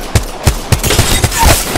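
Enemy gunfire in the game Apex Legends, a rapid run of six or seven sharp close shots at a steady beat, loud and with nobody talking.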